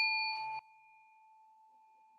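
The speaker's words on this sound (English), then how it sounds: "So I'll sound the meditation bell to mark the beginning of this practice" A meditation bell is struck once, giving a clear, bright ding whose pure ringing tone lingers and fades slowly in the quiet after a brief moment of faint background sound.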